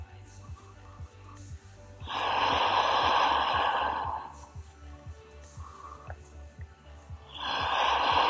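Slow, deep breaths during a yoga pigeon-pose hip opener, two long loud whooshing exhales with quieter inhales between, close to the microphone over a low background hum.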